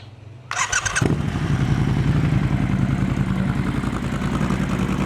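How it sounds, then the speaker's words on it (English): A Triumph Scrambler 1200 twin-cylinder motorcycle with dual exhausts starts with a brief whirr of the starter, then settles into a loud, close, steady idle. "ये इस बाइक का साउंड है। ट्विन इंजन है, ड्यूअल एग्जॉस्ट में साउंड है इसका।"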